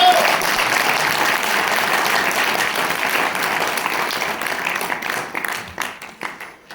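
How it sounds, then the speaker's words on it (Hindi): An audience at a company presentation claps loudly in a dense, steady burst that gradually thins into scattered individual claps as it fades. "तालियां जोरदार मार सकते हैं।"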